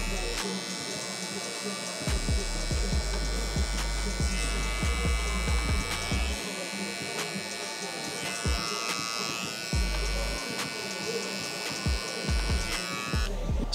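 Electric hair clipper buzzing steadily while cutting a high taper on a customer's head, a loud continuous motor drone with short pauses and slight pitch shifts as it works.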